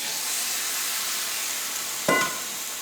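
Pieces of chicken drop into spiced masala frying in hot oil for a red wine chicken curry, a steady hiss of sizzling with a sharp louder crackle and clatter as the meat lands near the end.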